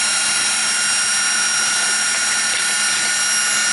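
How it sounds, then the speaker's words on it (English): A high-pitched rotary drill whines steadily and loudly without a break while cutting an eggshell in half for egg art, with a dust extractor running and no talking. "Switch off the drill,"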